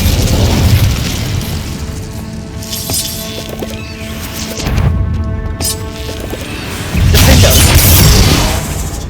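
Incendio spell bursts in Hogwarts Legacy land as a series of loud, punchy booms and crashes, three heavy blasts spaced across the stretch with rumbling fire between them.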